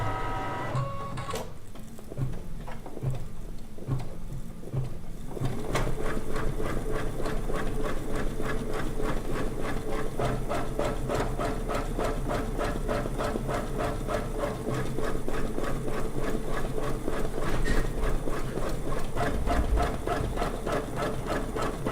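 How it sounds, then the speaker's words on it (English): A sewing machine runs a long basting stitch across a quilt, with a steady, fast mechanical chatter that carries on without pause after a few short starts, close and fairly quiet, with no talk. "our first thing is going to be our basting stitch"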